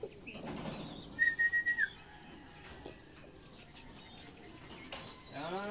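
Racing pigeons coo and call softly at a loft during a race release, with a brief whistling tone and faint background voices.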